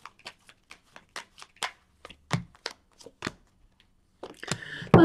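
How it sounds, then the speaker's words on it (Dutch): Tarot cards are shuffled during a weekly horoscope reading, with sparse soft taps and flicks before a louder riffling burst near the end, close and quiet, with no speech. "Dan de kaarten schudden om te kijken wat deze week voor jou gaat brengen"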